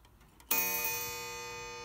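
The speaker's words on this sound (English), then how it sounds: "here's the clock ticking away" A German mantel clock strikes once with a loud, ringing chime that hangs and decays slowly, preceded by faint ticking in a quiet room.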